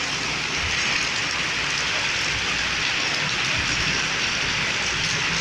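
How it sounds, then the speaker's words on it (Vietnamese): Heavy rain pours steadily onto a flooded street in Kien Tuong town, Vietnam, where water has risen to the edge of the sidewalk steps. The dense, even hiss stays close and loud throughout, with no voices. "Tháng này mưa quá mưa."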